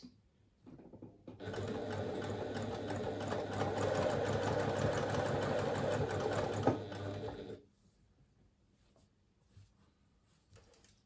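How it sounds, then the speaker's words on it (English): A sewing machine stitches fabric for a pouch in a steady, fast mechanical whir that lasts several seconds, then stops abruptly, leaving near silence. "So I'm not looking at my needle in particular as I'm sewing."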